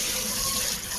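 Plain tap water running while a frying pan used for fried eggs and sausages is rinsed in a kitchen sink, a close, steady hiss and gush of water with no voices.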